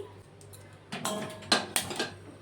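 A kadai cooking pan being handled in a kitchen while preparing hilsa fish curry, with a few soft metallic clinks and knocks, quiet and close.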